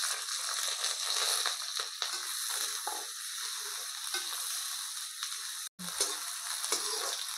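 Onion and green chilli fry in a pan with a soft, continuous crackling sizzle and light stirring scrapes nearby, interrupted by one brief gap before the frying resumes; nobody talks.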